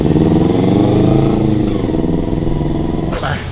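Kawasaki Z250 motorcycle engine running steadily up close, a loud, continuous idle-to-mid rumble with a slight dip in level near the end.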